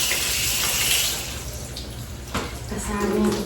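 Tap water runs steadily into a washtub at an outdoor laundry tank, a continuous splashing gush that eases slightly partway through, with a few clinks of handling near the end.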